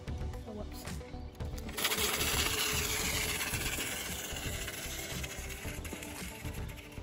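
Xiaomi M365 electric scooter motor running after a hall sensor replacement, a low rattling hum with a sharp clatter near the start, then a steady whirring drone on a test ride.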